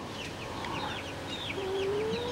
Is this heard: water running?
no